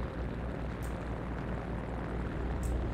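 A plane in the video game Company of Heroes 3 flies overhead as a loud, continuous engine roar with a heavy low rumble and two faint high crackles, no voices present.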